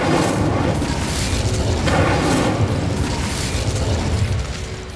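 Incendio fire spell explosion in the Hogwarts Legacy video game, a loud, sustained roaring burst of flame that fills the space and rumbles steadily before easing off slightly at the end.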